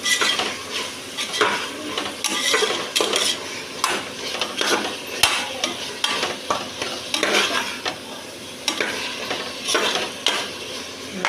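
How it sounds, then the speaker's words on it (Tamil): Chicken pieces are stirred and cooked in a pan, with a continuous sizzle under busy, repeated spatula scrapes and metal clinks against the pan, close and fairly loud throughout. "சிக்கன் போட்டாச்சு. நல்லா கிண்டி விட்டுக்கலாம். நல்லா கொஞ்ச நேரம் வேகட்டும்."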